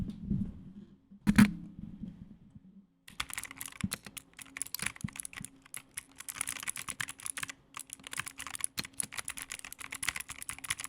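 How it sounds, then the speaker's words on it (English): Mechanical keyboard typing with a deep thocky tone, a short burst of keystrokes followed by a long run of steady, rapid clacking up close, with no talking. "everyone wanted that perfect thok sound in their typing videos"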